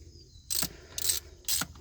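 A bolt on the starter bracket of a 2012 Honda Pilot 3.5 liter is tightened with a ratchet, giving three short, evenly spaced bursts of clicking, faint and close with no talk.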